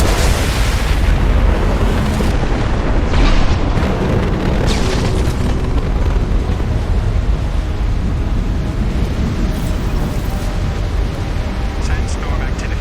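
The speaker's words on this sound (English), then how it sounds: "Impending explosion." An explosion in the video game Mass Effect 2 rolls out as a loud, sustained booming roar with deep rumble and crackling debris, mixed with game voices.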